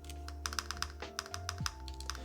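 Typing on a Faukwaa MY-2K mechanical keyboard fitted with keycaps and no foam, a steady run of close, crisp key clacks at an even pace over a low hum.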